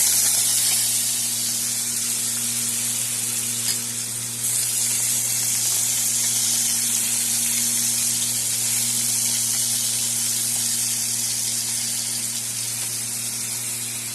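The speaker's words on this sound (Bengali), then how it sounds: "এখন আমি আলু ভাজা করব।" Potato pieces sizzle steadily in hot oil in a pan, a continuous hissing, spitting fry close up with no talk, under a constant low hum.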